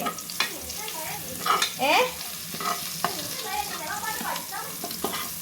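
A pan of food frying and being stirred, with repeated scraping strokes over a steady close sizzle, no voices.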